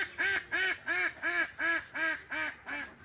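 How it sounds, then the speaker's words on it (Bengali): Ducks on a pond give a string of eight loud, evenly spaced quacks in a steady rhythm, close and clear, with no talk. "সবাই হাঁসের অসাধারণ ডাক শুনুন"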